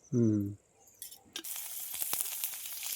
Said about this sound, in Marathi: कांदा परतून घ्यायचा पहिले कांदा परतून घेऊ त्याच्यातच मिरच्या परतू